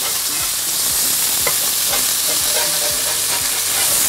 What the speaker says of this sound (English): Now we're gonna start scraping the edges so that we release